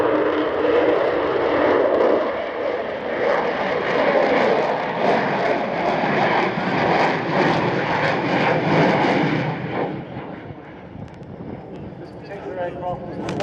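The jet engines of an Avro Vulcan Mk II XH558 bomber roar loudly at the Wings & Wheels air show at Dunsfold, Surrey, a sustained rumbling whoosh that fades toward the end, with a commentator speaking over it.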